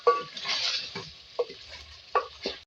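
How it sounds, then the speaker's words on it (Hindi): Ground tomatoes sautéing in a pan for Mughlai chicken curry, with soft sizzling broken by several sharp spoon-on-pan stirring scrapes close by, no voices. "डालने के बाद भी इसकी भुनाई करेंगे"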